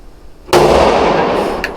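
One handgun shot rings out at an indoor shooting range in Miami. The crack is loud and close after a moment of quiet, and a short ringing echo trails off.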